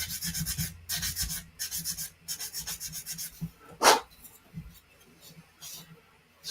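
Model kit plastic parts rubbed with 400 grit sandpaper, rapid rasping strokes in short bursts with brief pauses, close and fairly quiet, one louder scrape midway.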